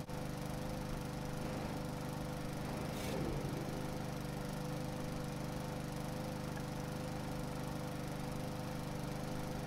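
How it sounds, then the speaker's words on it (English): A lawn mower engine in a lawn-mowing video game, droning steadily and loudly throughout at an even pitch, with a brief scrape partway through and no talking. "Bring the lawnmower back."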